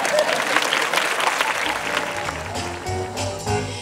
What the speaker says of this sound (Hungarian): Egy nagy tapsot kérünk szépen.